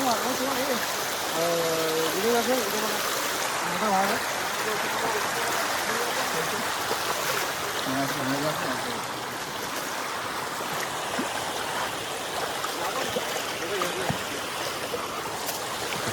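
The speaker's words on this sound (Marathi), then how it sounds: "इथे झरणा आहे छोटासा" A small waterfall stream in Vaibhavwadi, Konkan, rushes as a steady, fairly loud broadband flow, with a voice briefly heard over the water early on.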